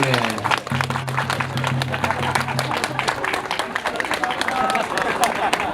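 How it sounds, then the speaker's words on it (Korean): Wedding guests at a traditional Korean wedding hall clap for the newlyweds, dense applause running throughout while an officiant's voice and music are heard over it. "큰 축하의 박수를 주시기 바랍니다"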